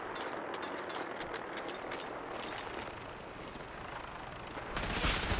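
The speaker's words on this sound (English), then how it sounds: "I hear a Gatling laser." A Gatling laser fires in Fallout 4, giving a fast, buzzing stream of rapid pulses under background game noise, followed by a louder, brighter burst near the end.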